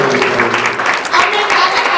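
Audience applause at a large kavi sammelan poetry gathering in a Jain temple in Kavinagar, Ghaziabad, loud close clapping with voices mixed in over the short stretch.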